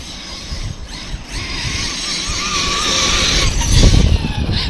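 Electric motor of a custom Losi 5ive T RC car running on 6S power, a rising whine and whir over crunchy wheel and ground noise, loud and continuous, building toward the end.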